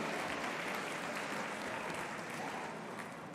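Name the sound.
audience applause at awards ceremony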